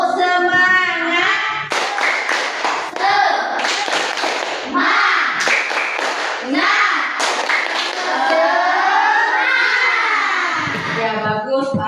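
A class of children follows a teacher through a rhythmic clapping chant, loud groups of sharp claps alternating with sung and spoken chant lines in a classroom, voices dominating between the clap bursts.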